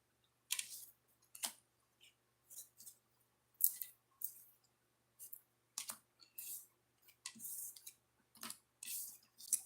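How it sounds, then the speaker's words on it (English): A deck of oracle cards shuffled by hand up close, a quiet run of irregular crisp riffles and flicks in short bursts with small gaps between them. "I'm going to shuffle the deck"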